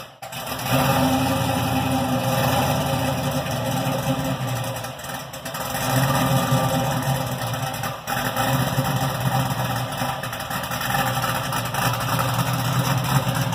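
A 1967 Chevrolet Camaro engine idles steadily and loudly at close range while the car backs out, a continuous low rumble with slight swells in level and no talk over it.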